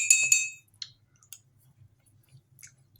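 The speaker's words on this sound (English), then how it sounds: "Stir my coffee again." A few bright metallic clinks of a spoon stirring coffee in a cup at the start, then scattered faint taps and clicks in near silence.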